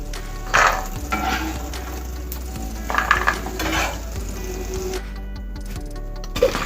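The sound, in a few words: okra pieces frying in oil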